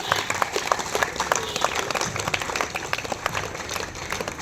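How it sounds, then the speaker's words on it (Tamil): Students clap at an assembly of a government boys' higher secondary school in Ponneri, a dense, steady patter of many hands that keeps going at moderate loudness throughout, with a faint murmur of voices underneath. "நம்ம கைத்தட்டல் தான் அவங்களுக்கு மிகச்சிறந்த பாராட்டு."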